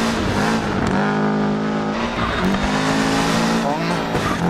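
A Subaru Impreza rally car in Dirt Rally 2.0 on an Australian stage, its engine roaring and shifting up and down with gravel crunching and brief tire skids, loud and continuous.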